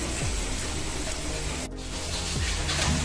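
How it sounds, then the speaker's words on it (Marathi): Sliced onion frying in a pan for soybean bhaji gives a steady, close hiss and sizzle that holds constant throughout with no voices. "आता हा कांदा छान भाजून घ्यायचा, याचा रंग बदलू होईपर्यंत भाजून घ्यायचा कांदा।"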